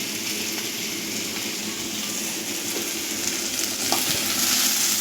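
Chopped onion frying in oil in a pan for a South Indian brinjal tamarind curry gives a steady, close sizzle with faint stirring scrapes, growing slightly louder toward the end.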